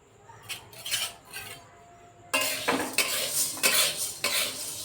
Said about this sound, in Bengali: আমি দিয়ে দিচ্ছি এই বিউলির ডালটা। এবার ভালো করে ভেজে নেব।